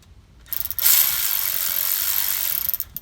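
A ratchet with an 8mm socket spins bolts in on a 6.0 litre Ford Powerstroke during a transmission solenoid job, giving a close, loud, continuous rapid clicking run that lasts a couple of seconds.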